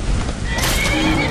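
A horse whinnies loudly in Skyrim, a rising shrill neigh over a busy game background with a voice nearby.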